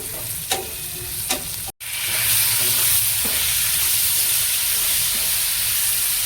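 Tomatoes go into a hot pan with roasted chillies for a home-style dry sprouted moth bean dish, setting off a loud, steady sizzle after a couple of stirring scrapes and a brief pause.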